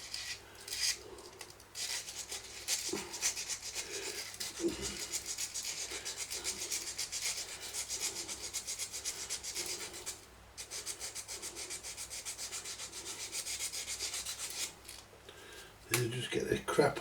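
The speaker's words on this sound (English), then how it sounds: "what we're doing, we're just sanding this." Emery paper rubbed by hand over a pitted metal part of a Philips tape recorder, giving a continuous rasping scrape in quick back-and-forth strokes, close up with brief pauses.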